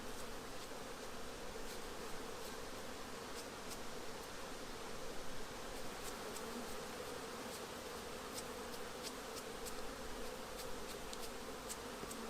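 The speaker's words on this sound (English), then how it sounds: "So now I just remove the bees. Go away, bees." Honey bees buzz in a dense, steady drone around a hive frame during queen-cell grafting, close and continuous, with faint clicks and rustles throughout.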